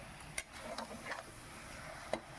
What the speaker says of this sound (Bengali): দেখুন খুব সুন্দর করে একটু নাড়িয়ে চাড়িয়ে নিচ্ছি